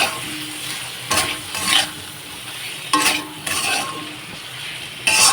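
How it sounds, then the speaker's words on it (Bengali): Spices with chilli powder and bay leaf fried in a pan and stirred, with a steady sizzle broken by several loud bursts of spoon scraping against the pan. "ভালো করে কিন্তু এখন নাড়াচাড়া করে নেব।"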